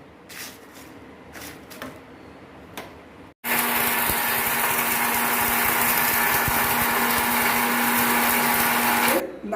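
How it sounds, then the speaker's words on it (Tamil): A mixer grinder grinds roasted biryani masala spices, starting abruptly after a few soft clicks and running as a loud, steady, close whir for about six seconds before cutting off. "மசாலா மிக்சியில் அரைச்சிட்டேன்"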